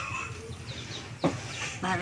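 Chickens cluck softly in a quiet outdoor mountain setting, a few faint, scattered clucks over low ambient noise. A voice comes in briefly near the end.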